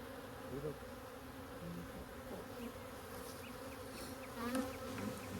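Honey bees from a package colony hum densely around a wooden queen box as it is lifted from the hive, a close, continuous buzz with a few louder passes near the end.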